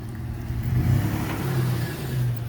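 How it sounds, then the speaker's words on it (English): A truck engine rumbles past nearby, swelling and fading over a couple of seconds with a steady low drone. "truck coming."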